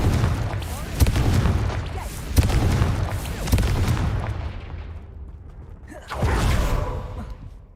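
Confringo blasting-spell explosions in the video game Hogwarts Legacy make dense, booming roars with sharp impact cracks, loud and continuous, and a final whooshing burst near the end.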